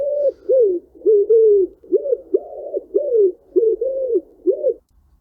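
A wood pigeon coos in the UK, close and clear: a steady run of soft, hollow coos grouped into a rhythmic phrase of about nine notes, with short gaps between notes and no other voices.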